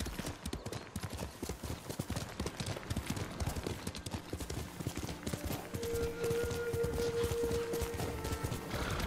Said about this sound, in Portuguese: Vamos chamar o cavalo.